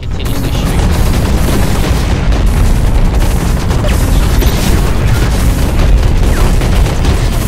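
A mech weapon fires nonstop in the Hawken video game, a loud, dense barrage of booming shots that runs unbroken from start to finish.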